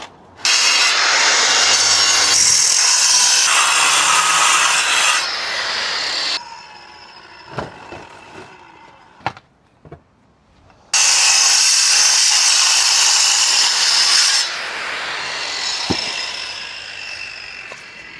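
A saw cutting through stone along a marked pencil line gives a loud, continuous gritty grinding that drops out into quieter scrapes and taps for a few seconds, then resumes strongly before easing.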